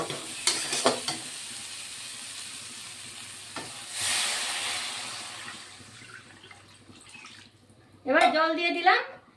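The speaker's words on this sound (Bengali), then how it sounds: "মশলা আলু এবার জল দিয়ে দিব" Spiced potatoes frying in a pan for a thin black-cumin fish curry, with water poured in: clinking stirring strokes, then a rushing sizzle as the water hits, and a voice speaking near the end.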